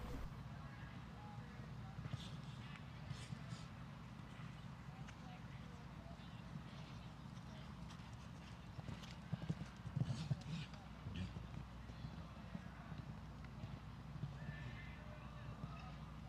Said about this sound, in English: Again, it's a nice modern horse, good gallop behind.